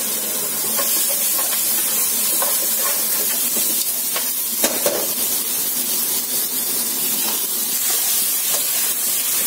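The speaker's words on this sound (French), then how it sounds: "Maintenant vous venez prendre votre première garniture, les oignons, échalotes et ail. Et on va venir les faire suer." Onions, shallots and garlic sweat in a pan, giving off a steady, loud hiss of sizzling with occasional small crackles and pops throughout.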